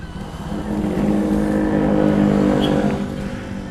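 A Honda Beat FI scooter fitted with a custom clutch bell revs up close, its engine note swelling to a loud sustained peak and then easing off, with no talk over it.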